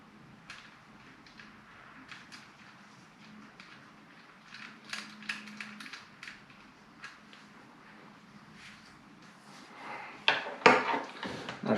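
Small clicks, taps and plastic-and-metal knocks while a sling is fitted onto a Barnett XP 380 crossbow, quiet handling noises ending in a louder rattling burst.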